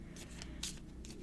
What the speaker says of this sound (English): I'm shuffling a deck here behind the scenes